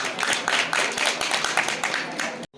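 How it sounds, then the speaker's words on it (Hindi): Audience at a Gita Jayanti quiz event clapping for a correct answer, a lively round of distinct rhythmic claps from several people, loud and close, stopping abruptly near the end. "तालियां इनके लिए"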